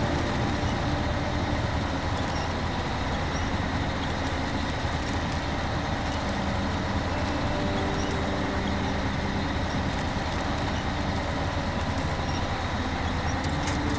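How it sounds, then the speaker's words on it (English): A truck winching in the video game SnowRunner, with a steady, loud mechanical drone and engine rumble that runs unbroken from start to finish without any talk. "Let's just winch the truck"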